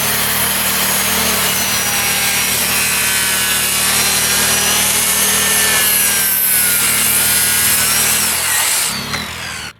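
Sawing through a hard oak board to trim off its cracked end, a loud, steady, close-up cut that runs almost continuously before the blade finishes and the sound drops away, with no talk.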